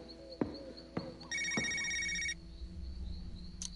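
A telephone rings in the video game Knee Deep, a single steady electronic ring burst lasting about a second, preceded by a few sharp game thumps and followed by low background ambience, with no talking.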